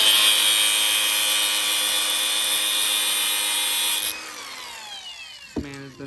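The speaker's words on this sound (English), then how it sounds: "I've been using a grinder for everything forever." An angle grinder cuts through metal during a Nissan install job, a loud sustained high whine for about four seconds before winding down, with a few clanks near the end.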